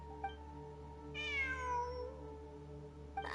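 A cat in the video game Genshin Impact gives one clear, drawn-out meow with a falling pitch, heard alone over a faint steady background hum, bracketed by a couple of short clicks.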